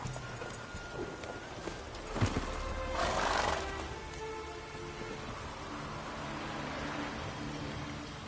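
Roach, Geralt's horse in Witcher 3, races along with soft hoof clip-clop, a brief neigh-like burst and steady rain-like patter over a low ambient bed, moderately faint and without talk.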